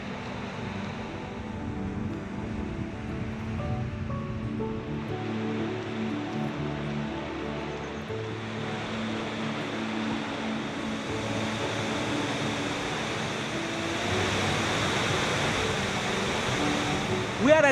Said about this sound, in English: We are at the Shaki waterfall.